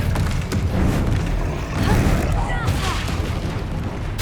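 Spell blasts like Confringo and Incendio go off in combat in the video game Hogwarts Legacy, repeated booming bursts and whooshes over a rumbling battle bed, with a voice talking over them.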